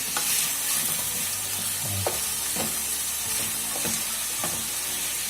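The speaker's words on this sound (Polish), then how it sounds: "Bardzo fajnie się smaży." Frozen fish sizzles and crackles in a hot pan, a steady frying hiss with occasional small pops and spatters close by.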